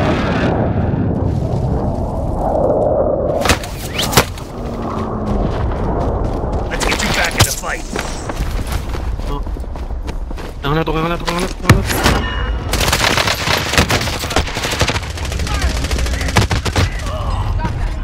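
Call of Duty gunfire, with bursts of automatic shots and booming impacts scattered through a busy game mix, while people talk over it.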